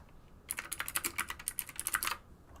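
Rapid, crisp keystrokes on a computer keyboard while designing in Adobe XD: a dense burst of close clicks lasting under two seconds, with quiet before and after.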